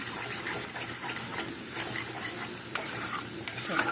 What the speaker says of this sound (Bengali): সুন্দর করে কষিয়ে নেব মশলা ভাজা আছে তো ওই জন্য বেশিক্ষণ কষানোর দরকার পড়ে না